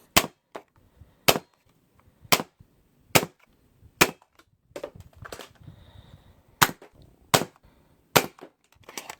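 A hammer-style dart blaster fires test shots, about eight sharp cracks spaced roughly a second apart, each a loud isolated snap, with a stretch of softer handling clicks and rustling between the middle shots.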